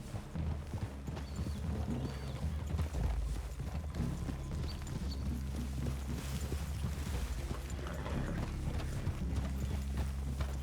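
Steady clip-clop of several horses' hooves trotting close by in Red Dead Redemption 2, continuous and rhythmic over a low ambient rumble.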